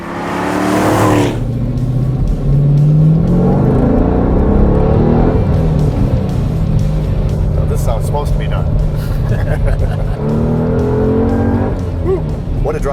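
A race car from Richard Petty's collection drives and revs its engine loudly and close by, with continuous rising and falling engine tone, and people talking over it.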